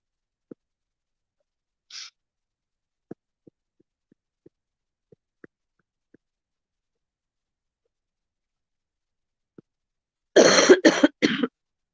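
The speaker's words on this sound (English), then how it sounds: "Sorry for my cough, you guys." A short run of several harsh coughs breaks a near-silent room near the end, preceded by a few faint, scattered clicks.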